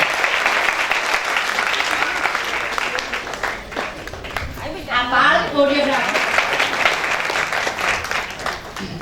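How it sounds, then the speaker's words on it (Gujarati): A children's event audience applauds steadily throughout, with a voice speaking over the clapping. "તેમના માટે આપણે તાળી પાડીશું"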